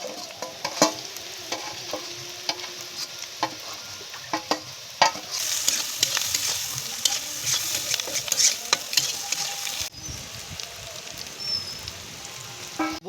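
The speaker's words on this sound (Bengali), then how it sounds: "এখনকার পেঁয়াজগুলোর সাথে আমরা এগুলো ভাজি নেব।" Onions, ginger and garlic fry in a pan for a home-style chicken dish with bitter gourd, giving a steady sizzle broken by sharp scraping stirs and clinks of a spatula throughout.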